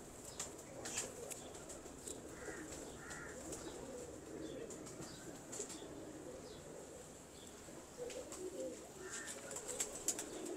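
Soft, low pigeon coos repeat now and then against a steady hiss of background noise, with a few faint flutters and ticks.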